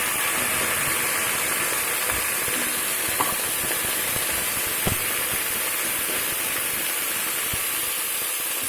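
Barbati beans tipped into a pan of fried onions hiss and sizzle in a steady, dense wash of frying noise for the whole stretch, with a few faint clicks and no voices.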